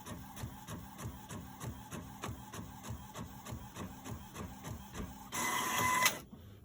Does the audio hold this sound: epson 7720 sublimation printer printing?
yes